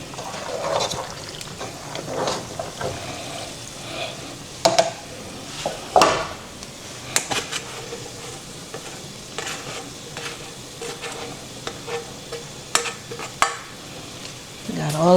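Chicken goes into a pan with a creamy dinner dish and is stirred, giving a continuous sizzle with repeated scraping and clattering of a utensil against the pan, close and moderately loud, no talking.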